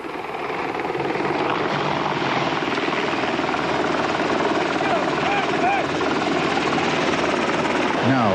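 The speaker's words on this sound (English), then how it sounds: "then back to catch the Apache as it drops behind a small hill" Military Apache attack helicopter flying close by, a loud steady rotor and engine roar filling the whole scene, with faint voices mixed underneath.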